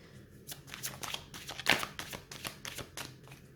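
Tarot cards shuffled and drawn one by one, giving a run of quick, close papery flicks and riffles with a sharper snap midway, fairly soft and without talk.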